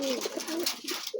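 A flock of kept pigeons gives soft, repeated throaty coos at close range. The calls run continuously through the short moment with no talking.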